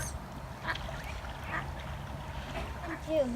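Ducks quack at a lake during a camping trip, a few short calls heard over steady outdoor background, with people talking nearby.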